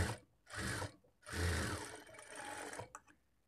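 A sewing machine stitches a folded shape belt onto a lined blouse in loud, close bursts of rapid needle whirring, stopping and restarting between runs, without talking.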